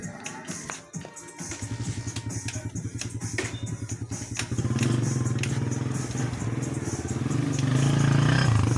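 A Honda Supremo motorcycle engine with a dirty carburetor sputters and misfires as it is throttled, and it is dying out. There is a rough, uneven chugging with clattering pulses that builds in loudness toward the end, close up and with no talking.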